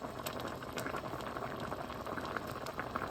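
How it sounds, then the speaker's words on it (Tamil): Fish head curry with onion, green chili and garlic bubbles in a pot, a steady close simmering hiss and popping throughout with no voices. "மீன் தலை பாருங்க கொதிக்கி."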